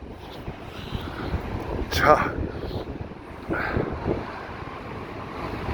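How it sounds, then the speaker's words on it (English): Strong wind buffets the microphone on the Blackpool promenade, with a broad rushing roar and gusty bursts that may include sea waves breaking nearby, while a person speaks briefly over it. "yeah, really so windy"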